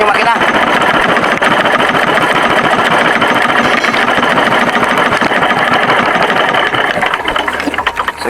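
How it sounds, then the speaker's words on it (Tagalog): A boat motor runs loud and close with a steady chugging drone for several seconds before it is cut off near the end, during a night fishing trip. Someone speaks over the engine noise. "Ayan, patayin na natin yung makina."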